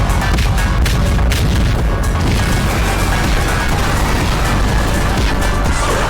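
Incendiary artillery in the Factorio video game fires on swarms of biters, a dense wall of booming blasts and crackling fire with rapid overlapping thumps, loud and continuous throughout.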